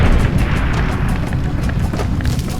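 A loud, broad booming blast from an explosion in a 2008 first-person shooter with destructible surroundings, its roar holding steady for a couple of seconds without fading.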